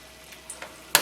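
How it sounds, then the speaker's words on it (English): Brief soft crackling and spitting of a small piece of dal batter frying in hot oil, ending with a louder sizzling burst. "Okay, it is sizzling."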